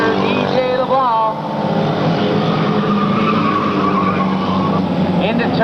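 Race cars roaring on the final lap of a 50-lap Sunday race, engines droning loudly and continuously with a brief tire squeal near the start, under an announcer's voice.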